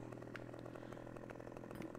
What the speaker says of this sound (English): I can't turn when I got the chainsaw on.